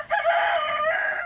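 A chicken suffering from coryza gives one strained, drawn-out crow or call, loud and close, with no talk.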